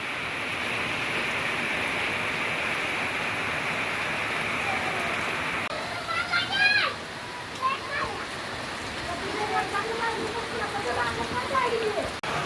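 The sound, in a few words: heavy rain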